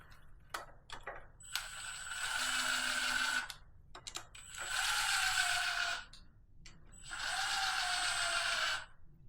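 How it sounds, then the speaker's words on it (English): New OEM bolts being tightened on a KX125 motorcycle, likely with a ratchet or power tool, giving three sustained mechanical whirring runs a few seconds each, separated by short clicks and pauses, close and moderately loud. "Grab our brand new OEM bolts and tighten them down."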